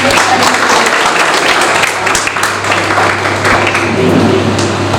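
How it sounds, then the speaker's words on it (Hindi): Audience applause at a book launch in an auditorium, a steady continuous wash of clapping holding level for the whole stretch, with a low steady hum underneath. "इसी बात पे तालियां हो जानी चाहिए"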